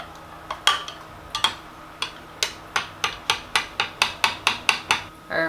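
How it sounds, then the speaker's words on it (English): A spoon clinks rhythmically against the side of a cup of bouillon broth, a series of quick, sharp taps speeding into a steady stirring pattern, close and alone. "give that a stir."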